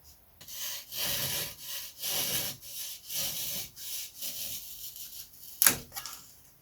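Hand saw cutting balsa-type wood strips for a model Da Vinci flyer aileron, a steady series of about seven rasping back-and-forth strokes, close and fairly loud, with a sharper knock near the end.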